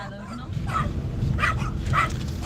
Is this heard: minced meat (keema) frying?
no